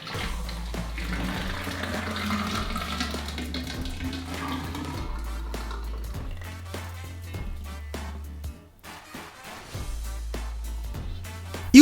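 Melted watermelon jelly pours into a mold for a giant jelly pizza, a thick liquid stream gurgling and splashing in repeated, pulsing glugs, then briefly stopping before pouring again.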